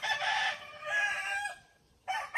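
A rooster close by gives a long, loud crow that fades off, then another crow starts after a short pause.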